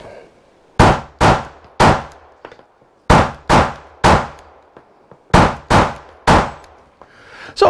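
Close, sharp pistol shots from a handgun fitted with a Holosun 509 red dot sight crack out in quick strings of about three, with brief pauses between groups.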